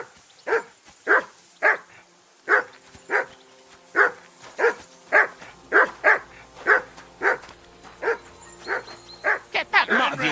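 A dog in the medieval video game Kingdom Come: Deliverance 2 barks repeatedly and close by, with sharp, evenly spaced woofs that speed up into a quicker burst near the end, and no voices over them.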